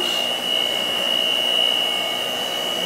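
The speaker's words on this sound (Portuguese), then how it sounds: "olha como é que eu tô batendo. Com a batedeira e com a colher." An electric hand mixer beats a homemade bar soap mixture in a bucket, giving a steady, loud, unbroken motor whine with a constant high tone and no pauses.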